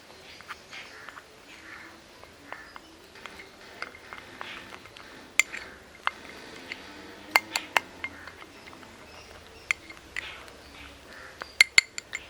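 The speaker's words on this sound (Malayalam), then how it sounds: "അതിനുശേഷം നമുക്കിത് നന്നായിട്ടങ്ങ് മിക്സ് ചെയ്യണം" A lemon juice hand scrub is stirred in a bowl, giving light, scattered clinks and taps of a spoon against the bowl, faint and close, with irregular sharp ticks over a quiet background.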